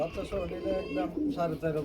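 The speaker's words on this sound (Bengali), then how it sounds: "এক জোড়া লুটন কবুতর রয়েছে দুই দুটা বাচ্চার সহকার" Luton pigeons coo steadily at a large pigeon farm in Narsingdi, low throaty calls repeating close by while someone talks over them throughout.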